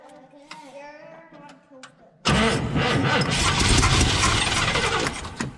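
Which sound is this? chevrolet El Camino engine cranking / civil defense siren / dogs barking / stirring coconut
chevrolet El Camino engine cranking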